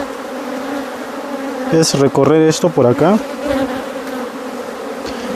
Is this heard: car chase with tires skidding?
no